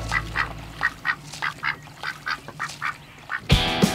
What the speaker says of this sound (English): Now we have a pet duck because he can't fly away anywhere.